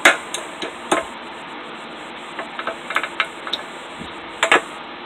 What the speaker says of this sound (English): I'll just start tapping it with a hammer, working it around